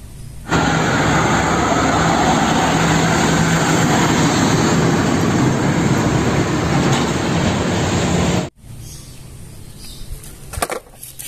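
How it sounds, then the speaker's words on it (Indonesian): A toy train runs with a loud, continuous mechanical rumble and whir for about eight seconds, then stops abruptly, leaving faint clicks and handling sounds. "Wow, lihat ada kereta api."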